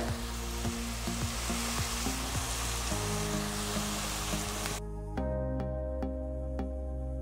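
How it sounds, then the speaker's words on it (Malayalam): Onions frying and being stirred in a pan, with salt just added: a steady close sizzle with repeated light scraping strokes of the spoon, continuing alone without any talk. "ഈ ഉള്ളി ചേർത്തിട്ട് നമുക്ക് നന്നായിട്ടൊന്ന് ഇളക്കിയെടുക്കാം."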